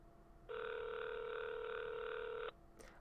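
A telephone rings once over a speakerphone, a single steady electronic tone lasting about two seconds, fairly quiet and heard alone.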